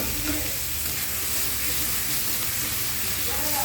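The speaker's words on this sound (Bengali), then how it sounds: "প্রথমে টমেটোটা তেলে অল্প ভেজে নেব।" Chopped tomato fries in hot oil after onions in a home kitchen, a steady close sizzle and hiss running throughout, with a voice faintly heard at moments.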